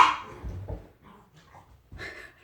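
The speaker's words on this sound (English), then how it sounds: "dogs are playing in the background." Dogs play in the background, giving scattered soft barks, yips and whimpers amid muffled indoor noise, fairly distant and quiet.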